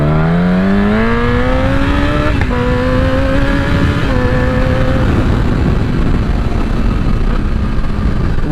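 A motorcycle engine revs loud and close, its pitch climbing steadily in stages as it accelerates, then holding a strong, sustained roar.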